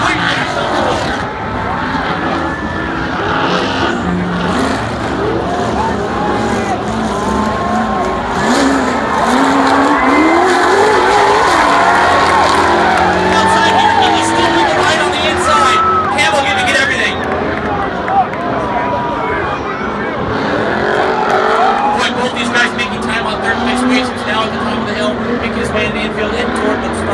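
Ultra4 off-road race cars on the first lap of a national championship race, engines roaring and revving loudly as they pass and climb, with crowd noise and a commentator talking throughout.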